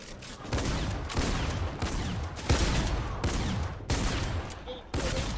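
Shotgun fire in the Fortnite video game, several loud blasts in quick succession with brief gaps, under faint game ambience and some speech.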